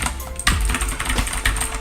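A blue-switch mechanical keyboard is typed on, a quick burst of loud, clicky keystrokes about a second apart, close up and with no voice.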